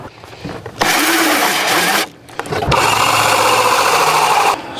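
Battery-powered tool cutting Kydex or ABS plastic for a Dodge Charger custom center console, two buzzing, rasping cutting bursts with a short pause between, loud and close.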